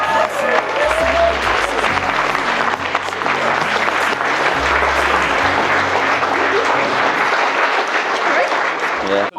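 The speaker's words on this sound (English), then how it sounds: "give a huge round of applause for the new Mr." Loud, sustained applause from wedding guests for the newlyweds at a ceremony, a dense continuous wash of clapping with crowd noise and some voices mixed in, lasting throughout before cutting off.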